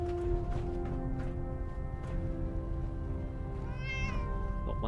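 A cat in the game Fallout 4 meows a few times against a steady tonal hum, the calls fairly soft and drawn out with one rising mew near the end.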